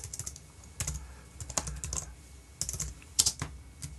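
Fingers tap quickly on a computer keyboard close by, clicks arriving in uneven bursts with brief pauses between them and a few louder key strikes.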